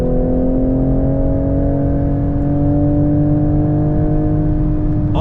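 A 2023 Toyota GR Supra 3.0 with a manual gearbox accelerates on a track, its engine holding a steady, loud, slowly rising harmonic drone heard from inside the car without talk.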